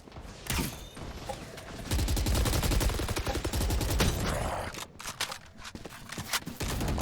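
Rifle fire in a Valorant esports match (VCT Americas, 2G vs. SEN) comes as a rapid burst of shots, then several scattered single cracks amid game sounds.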